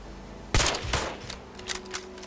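Gunfire in the Fallout 76 game: a sharp, loud shot, then a second blast shortly after, followed by fainter, quicker cracks trailing off.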